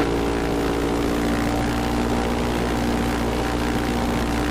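Engine run-up to 1700 RPM on a Zenith STOL CH 750 Super Duty kit airplane, heard as a loud, steady, unbroken propeller drone with an even tonal hum throughout and no voices.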